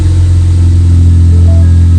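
Ford Focus ST with a big turbo idles just after a starter replacement, a loud, close, steady low hum with small pitch shifts near the end, no speech over it.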